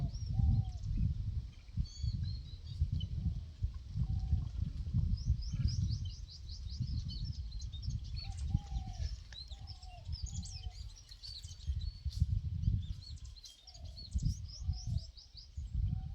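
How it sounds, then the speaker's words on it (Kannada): Birds chirp in short, scattered bursts over a low outdoor rumble, with occasional soft coo-like calls in between; fairly distant and moderately faint. "ನೋಡಿ ಪಕ್ಷಿಗಳು."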